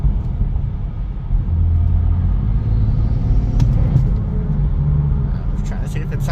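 Steady low rumble from inside a car driving on the road, its Gen 1 B58 engine fitted with a B58 Racing titanium intake, droning evenly throughout with some faint talk mixed in.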